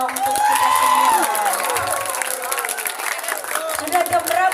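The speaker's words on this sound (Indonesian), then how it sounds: "Tepuk tangan dulu dong untuk kita semua" Applause and cheering from a crowd at an Isra Mi'raj commemoration and group prayer gathering, a dense sustained wash of clapping with raised voices and shouts mixed through it.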